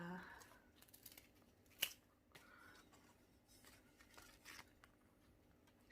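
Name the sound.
scissors snipping dead banana plant leaves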